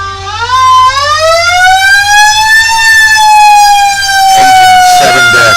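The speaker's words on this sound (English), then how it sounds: "Borough of Big Run fire truck, hose truck." A Borough of Big Run fire truck rolls through a Fourth of July parade in Osceola Mills, its siren loud and close, rising in a long wail and then holding steady before a brief burst of noise.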